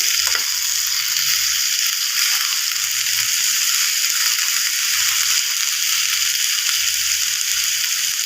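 Ridge gourd and prawns frying in hot oil give off a loud, steady, close sizzle that crackles unbroken from start to finish, with soft low clinks of stirring now and then.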